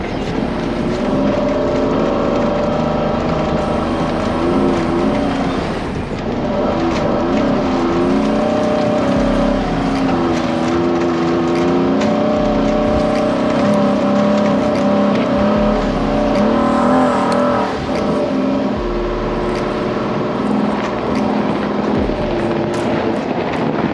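A 2022 Chevrolet Colorado ZR2 Bison AEV pickup drives off-road through snow, its engine droning loud and steady throughout, with the revs swelling and easing as it pushes along the trail.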